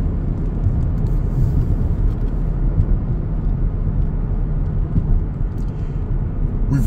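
Low, steady rumble of a 2010 Chevrolet Camaro 2SS with a 6.2-litre LS3 V8 and six-speed Hurst shifter, heard from inside on a hilly backcountry road during a downshift, with continuous engine and road drone and no talk.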